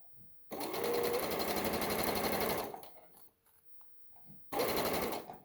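Sewing machine stitching a little dress, running in a fast, steady buzz for about two seconds, pausing briefly, then starting again, close and loud with no voices.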